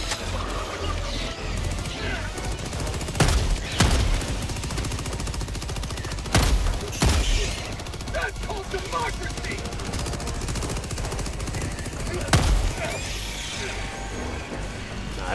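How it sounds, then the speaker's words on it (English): Shotgun fire in the video game Helldivers 2, with sharp blasts at intervals over a dense, constant battle din of other gunfire and explosions. "these shotguns are so good"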